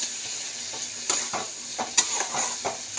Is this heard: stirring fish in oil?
yes